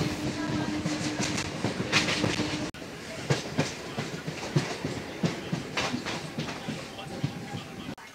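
A Howrah to Tarakeswar suburban local train rolls along at speed, its wheels beating a steady, repeating clickety-clack over the rail joints against a constant rumble, close and loud throughout.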